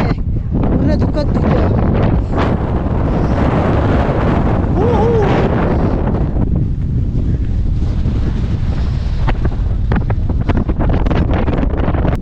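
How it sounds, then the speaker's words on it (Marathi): Strong mountain wind on Brahmagiri hill near Trimbakeshwar, Nashik, roaring continuously and loudly with heavy buffeting against the microphone throughout. "वारा कमी झाल्याशिवाय अजिबात उतरायचं नाही"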